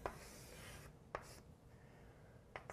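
Pen writing out a math equation, soft scratchy strokes close by with a few sharp taps as marks are made, quiet and alone.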